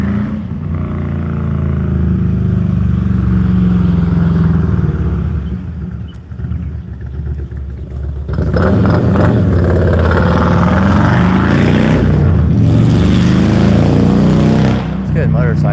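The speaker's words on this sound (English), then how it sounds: "It's good motorcycle weather. They're so loud though." Loud motorcycles roar past outdoors in good weather, engine noise swelling and fading over a steady traffic rumble, with a person talking over it.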